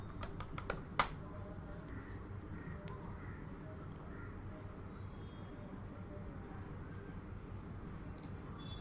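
A few quick keystrokes near the start on a computer keyboard while a password is typed into an Ubuntu terminal, then a long stretch of low hum and quiet clicks.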